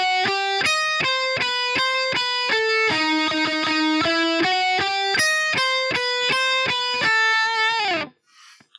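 A clean guitar picks a quick run of single notes in a lilting 12/8 jig rhythm built on the harmonic minor scale, each note distinct and bright, playing steadily for eight seconds before stopping.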